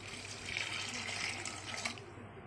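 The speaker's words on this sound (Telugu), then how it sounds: "వాటర్ యాడ్ చేస్తున్నాను" Water poured from a tap or jug into a pot of soaked chickpeas, a steady splashing gush that holds close and fairly loud for the whole stretch with no talk over it.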